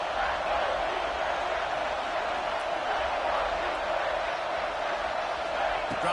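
Home stadium crowd in College Football 26 roaring during a Maryland game, a dense, steady wall of cheering noise that holds at an even level throughout without a break.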